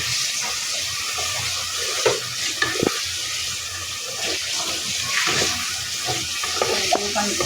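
Onions fry in hot oil with spices while being stirred, giving a dense, steady sizzle with occasional scraping and clinking of a utensil against the pan, close and fairly loud throughout.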